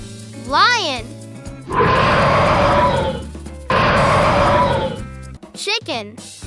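A lion lets out two long, loud, rough roars, each lasting over a second, over background music, with a voice speaking briefly before and after.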